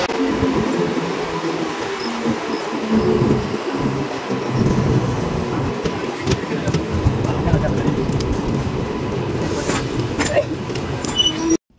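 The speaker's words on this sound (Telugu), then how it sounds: "ఎగ్జాక్ట్గా 3:30కి హిందూపూర్లో అయితే వదిలేసింది మమ్మల్ని ట్రైన్." Passenger train running near Hindupur, a steady low rumble with rattling carriage noise throughout, loud and continuous, with faint voices in the background.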